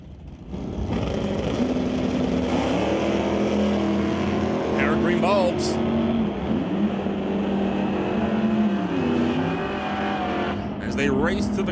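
A Chevelle and a 1966 Chevy II run side by side down a quarter-mile drag strip in an ET bracket race, their engines roaring loudly and continuously with shifting pitch while an announcer talks over them.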